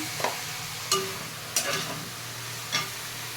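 Potatoes and yardlong beans frying in a pan with turmeric and salt are stirred, giving four distinct scraping strokes over a low, steady sizzle, close by and with no talking.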